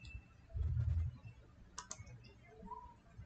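Light typing on a computer keyboard, a short quick cluster of soft clicks followed by a few scattered taps, faint and close in a quiet room.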